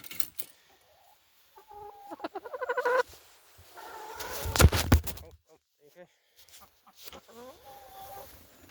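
Free-range chickens cluck and murmur on a farm, close and intermittent, with rapid rhythmic bursts and one louder squawk amid the quieter stretches.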